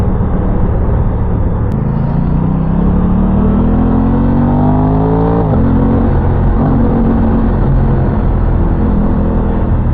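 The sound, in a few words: Aprilia Tuono 660 motorcycle engine revving, induction sound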